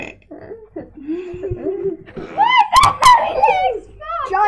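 A child's loud burps during a playful burping contest, several croaky belches mixed with laughter and chatter from nearby voices.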